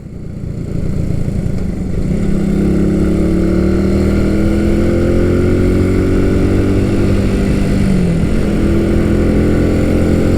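Vintage Honda CB125 motorcycle being ridden, its small single engine droning steadily and loudly with rising and falling pitch as it accelerates and shifts, close and continuous with no talk.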